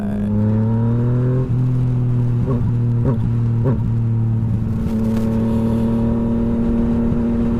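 A Yamaha XSR900 motorcycle fitted with an M4 exhaust idles close and loud, then gives three quick sharp revs before dropping back to a steady low rumble.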